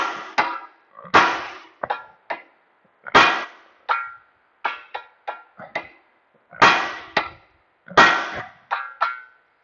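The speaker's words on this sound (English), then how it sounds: "hit it with a big hammer right on the bottom and she'll vibrate out" Heavy metal hammer blows on the bottom of a ball joint on a 1995 Honda Civic EX ring out in irregular bursts, some single and some in quick doubles, loud and close with short clanging decay.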